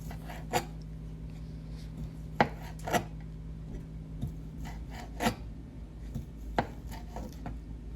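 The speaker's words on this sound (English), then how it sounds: "I always chop a lot just because I prefer to have more sausage than shrimp in my Alfredo." A knife chops sausage for a Cajun shrimp and sausage Alfredo, with irregular, fairly soft thuds on a board spaced a second or more apart over a quiet kitchen hum.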